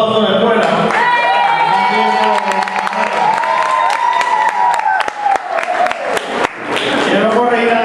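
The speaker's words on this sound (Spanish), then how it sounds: "Hacer un aplauso a la escuela." A student audience claps and cheers for a school, loud clapping with whoops and shouts mixed with voices, bursts rising and falling over several seconds.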